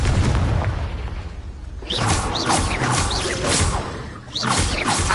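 A Confringo fire spell from Hogwarts Legacy on PS5 lands as a series of loud, close explosive bursts with whooshing tails. Several blasts follow one another over a dense game soundscape, with no talking.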